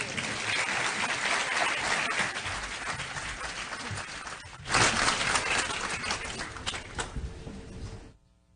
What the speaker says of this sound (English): Let's give Minister McKenna one more round of applause.